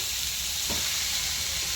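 Khoya dry-roasting in a pan gives a continuous, close sizzle and hiss with a faint stir partway through.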